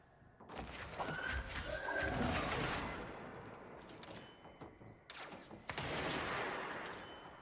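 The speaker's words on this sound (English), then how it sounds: "Is that someone using a machine gun?" Bursts of machine gun fire in the video game Control, rattling volleys set among crashing, mechanical game noises, moderately loud with short pauses between bursts.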